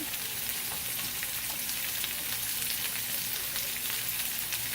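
Pork tenderloin searing in a hot oiled pan gives a steady, close, bright sizzle with scattered crackles and pops that keeps going evenly the whole time, with no voices.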